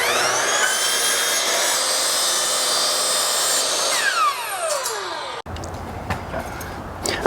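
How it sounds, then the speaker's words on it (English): A power saw trimming about 1/8 inch off a wooden trim board for chunky columns, a steady loud whine running for several seconds before winding down, followed by quieter shop noise. "I'm gonna cut about 1/8 of an inch off this board"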